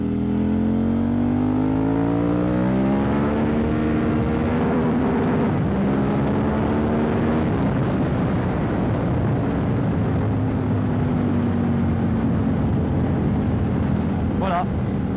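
A KTM 990 Super Duke motorcycle pulling out in second gear to overtake a truck, its engine note rising steadily in pitch, then easing off, under constant wind roar, with a rider talking throughout.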